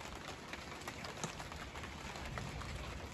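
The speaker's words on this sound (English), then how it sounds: "It's just rain coming straight in off the roof." Rain pouring straight in through a leaking roof of an Italian restoration house, a steady dense hiss of water with scattered drips and splashes, fairly close and continuous throughout.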